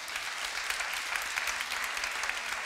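A studio audience applauds to congratulate a quiz winner on the Czech radio show Tobogan, with dense, steady clapping that holds at an even level for the whole stretch, without speech over it.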